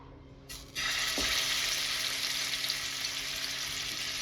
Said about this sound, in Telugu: షాలో ఫ్రై చేసుకుంటే సరిపోతుంది.